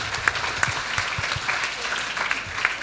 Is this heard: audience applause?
yes